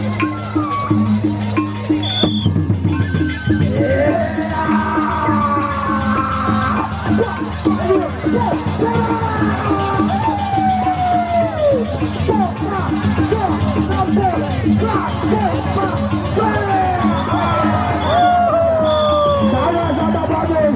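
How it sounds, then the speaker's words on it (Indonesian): A crowd at a peresean stick-fighting bout in Lombok cheers and claps in a dense, continuous hubbub, with loud voices and calls cutting through across twenty seconds while an announcer talks over the noise. "Tepuk tangan penonton"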